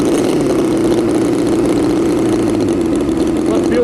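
A small gasoline engine with its exhaust closed off runs steadily with a buzzing, even drone, close by, while a voice talks briefly over it.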